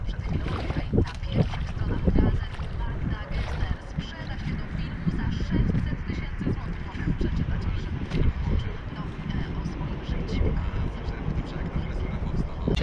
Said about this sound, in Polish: dzisiaj jest tak potworny wiatr, że muszę parasol trzymać, żeby mi nie zwiało